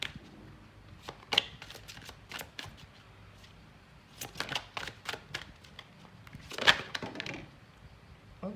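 A deck of angel love oracle cards is shuffled by hand nearby, with soft riffling flutters and crisp snaps in short bursts and quiet gaps between them.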